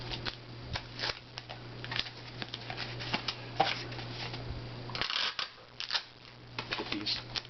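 Scotch packaging tape being pulled and pressed onto a Priority Mail flat rate shipping envelope, heard as close, irregular crackles, rips and rubbing taps over a low steady hum.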